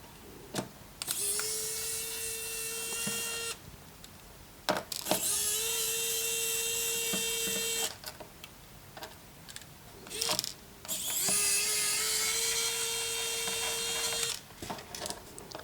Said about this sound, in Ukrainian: Без проблем наша викрутка справляється своєю задачею.